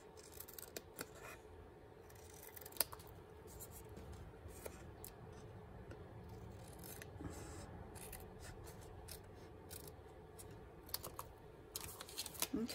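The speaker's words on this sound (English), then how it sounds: "I'm going to take my paper snips and cut out around it, but leave a little red border" Paper snips cutting around a red-bordered paper piece for a Christmas cracker craft, a series of faint, quick crisp snips scattered irregularly over a quiet indoor background, growing a bit busier toward the end.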